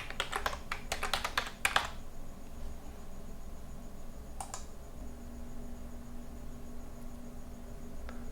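A short burst of computer keyboard typing, rapid close key clicks for about two seconds, followed by a couple of isolated taps over a quiet electrical hum.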